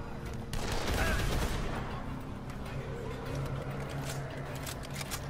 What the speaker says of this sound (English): at least I've got, like, a freaking assault rifle now to fire them with